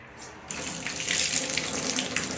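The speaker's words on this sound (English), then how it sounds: "Hot and cold running water." A newly fitted bath tap is turned on, running hot and cold water in a sudden strong gush that settles into a steady, close rushing stream into the tub.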